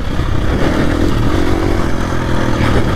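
A 450 dirt bike motorcycle rides a mountain trail in Montana, its engine a loud, steady drone close by with rattling and clatter from the ride throughout.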